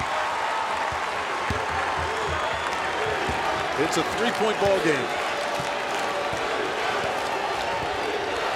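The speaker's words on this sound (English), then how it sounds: "this crowd is alive and comes to its feet for the final minute of play" Fans in an arena roar and applaud during the closing minute of a 2016 ACC Tournament basketball game between NC State and Duke, a dense, steady crowd wash under a commentator's voice, with a few sharp ball bounces.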